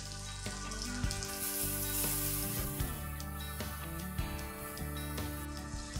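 Chopped tomatoes sautéing in a pan with a little sugar and seasoning, a steady close sizzle with light stirring scrapes, with background music running throughout and no talking.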